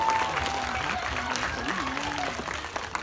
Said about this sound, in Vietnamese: Thưa quý vị, dành một tràng pháo tay cho diễn viên Cát Phượng trong vai Tư Mắm,